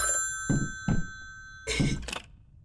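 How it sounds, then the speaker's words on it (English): A telephone rings in a Gmod horror map game, two short bursts and then a longer double ring close and clear over a faint low hum, with no voices. "Did you hear the phone ring?"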